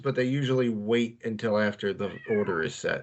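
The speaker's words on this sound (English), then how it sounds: "Sorry for the noise in the background. My cat apparently has the zoomies." A cat meows in the background while someone talks continuously over it, the meows partly masked by his voice.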